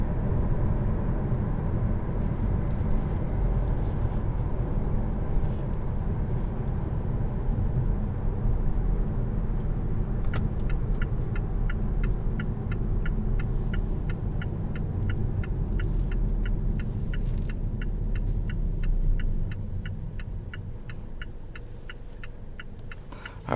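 A 2018 Mazda6 Turbo heard from inside while driving, with a muffled, steady engine and road rumble, a rapid ticking in the second half, and a drop to quieter cruising near the end.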